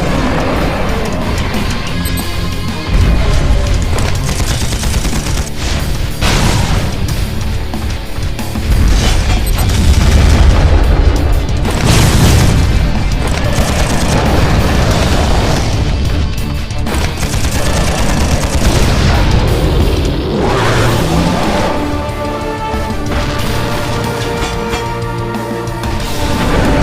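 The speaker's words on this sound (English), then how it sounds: "Now they're shooting fireballs at me!" Fireball attacks in the mobile action game Implosion Never Lose Hope, played on an itel P55 5G, arrive as loud, dense booms and crashing blasts over a driving game soundtrack, with volume swelling around the middle.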